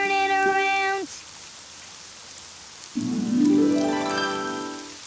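Rain falls outside in the Daniel Tiger cartoon, a soft, steady patter that runs the whole way under sustained musical tones, which break off briefly before a rising tone swells in.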